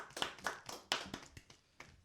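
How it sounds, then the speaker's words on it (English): A small group clapping at a tattoo podcast taping, a handful of uneven, close claps in a loose irregular rhythm that thin out toward the end. "Clap it up for her"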